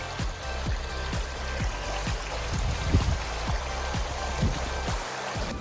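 Creek water flows and trickles steadily at a campsite stream, a continuous close watery wash with faint repeated knocks and splashes scattered through it, no talking.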